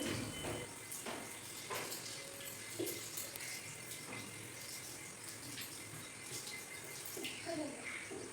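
Water sloshes and splashes steadily as someone washes by hand at a tap or basin, with faint voices and background bustle under the continuous running water.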